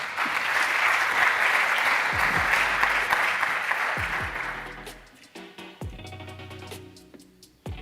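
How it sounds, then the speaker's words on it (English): Audience applause at an awards ceremony holds full and dense for several seconds, then thins out into scattered individual claps that fade away. "big applause to MediHub"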